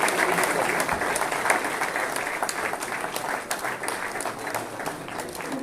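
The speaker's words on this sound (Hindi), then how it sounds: "कृपया तालियां बजती रहनी चाहिए।" Sustained audience applause at a formal welcome ceremony at an institute in Patna, dense steady clapping from a sizeable crowd throughout, with a faint voice underneath.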